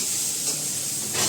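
Beet rice tempered in hot oil gives a short, loud burst of sizzling hiss that stays steady and then cuts off abruptly.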